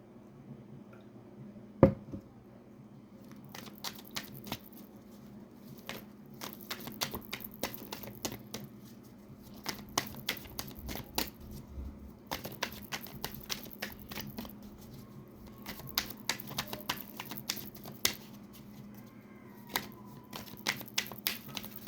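Tarot cards shuffled by hand to pull an extra card in a quiet room, a steady run of soft, crisp card snaps and riffles in bursts with short pauses, close and fairly faint.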